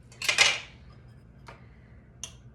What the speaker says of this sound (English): if you just might want to take a knife and gently just stir around the bottom